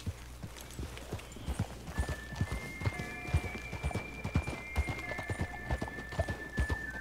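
Horse hooves clip-clop in the Red Dead Redemption video game as the horse approaches, a steady rhythm of hoof beats with an occasional whinny and a sustained tonal game sound over it.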